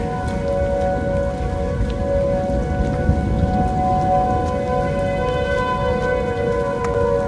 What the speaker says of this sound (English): all the tornado sirens in my neighborhood accidentally harmonized